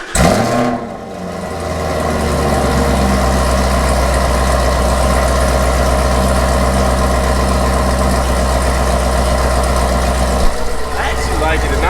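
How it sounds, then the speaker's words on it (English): A catless Chevrolet Camaro ZL1 with headers fires up from a cold start, a loud close engine that swells quickly and then holds a steady, rumbling high idle with a slight dip near the end. "let's go ahead and get our first actual reaction to the cold start"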